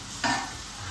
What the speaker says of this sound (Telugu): అవి ముక్కల కింద ఉండేటట్టు కొంచెం జాగ్రత్తగా కలుపుకోండి.